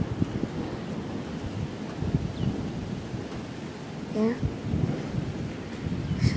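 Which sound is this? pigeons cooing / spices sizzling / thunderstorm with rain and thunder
thunderstorm with rain and thunder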